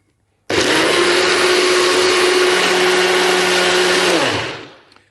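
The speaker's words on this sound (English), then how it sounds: "For continuous blending, rotate until you feel the click." A smoothie maker with an Ergo bottle blends continuously in one loud, steady whir that starts abruptly, holds its pitch for about four seconds, then winds down and fades, with no voices.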